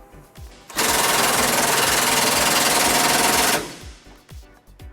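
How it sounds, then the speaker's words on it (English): Impact wrench tightening bumper bolts on a 2008 Ford Ranger during a trailer hitch installation, a loud continuous rattling burst of about three seconds, framed by a few faint clanks before and after. "Now we're going to tighten up both of those bolts to put our bumper back into place."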